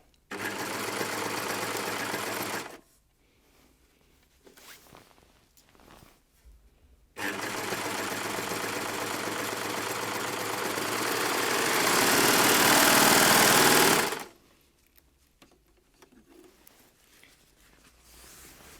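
An overlocker serger stitching a zip and piping runs in two loud, steady whirring stretches, the second one speeding up and growing louder, with quieter handling noises in the pauses.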